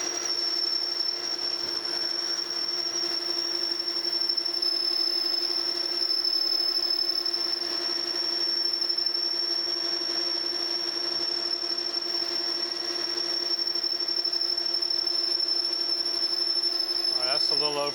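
A 3/8 inch drill bit boring into metal on a lathe while machining a replacement eyepiece adapter for a Hilger-Watts autocollimator, giving a steady, close, continuous machine whine with a thin high squeal throughout and no talk.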